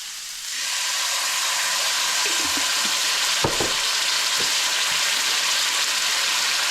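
Green salsa hits a hot pan and sizzles loudly, a steady close frying hiss that holds throughout, with a few faint clinks of a utensil stirring partway through.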